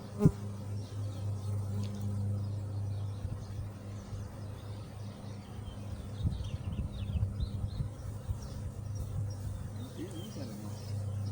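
A honey bee swarm hums in a bush, a faint, steady low buzzing that persists throughout at a moderate distance, with occasional louder passes of individual bees close by.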